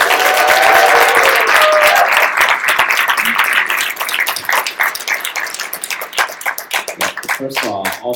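Live audience at a crowded event bursting into loud, sustained applause and cheering, dense clapping that gradually thins into scattered claps, close and filling the room.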